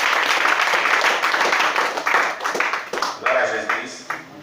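A church congregation claps and cheers in acclaim during a worship service, dense loud applause with voices shouting over it, tapering off toward the end.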